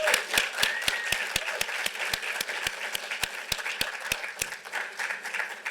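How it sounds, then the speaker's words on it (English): An audience applauds the Vermont Human Rights Commission at a fair housing event, steady crowd clapping joined by one loud, evenly spaced close clapper, fading near the end. "could we have a round of applause for the Vermont Human Rights Commission?"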